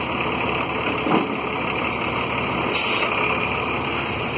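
The diesel engine of a Luna 35-ton crane runs steadily at idle while the hydraulic outriggers operate, a constant close rumble with a faint high whine and a couple of small knocks.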